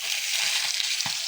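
Pabda fish fries in a pan of hot oil, a loud, dense, continuous close sizzle with a faint knock of a utensil, with no voices.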